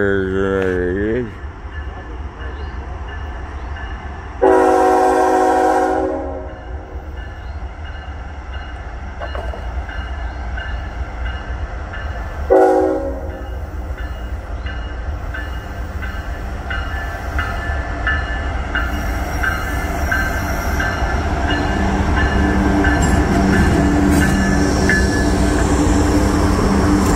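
A train on a rail line sounds its horn in several loud, harmonic blasts, then rumbles past with building low clatter and rising rail noise, while people speak briefly nearby.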